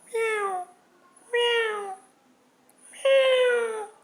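A cat meows three times, loud and close, each drawn-out cry separated by short pauses of quiet.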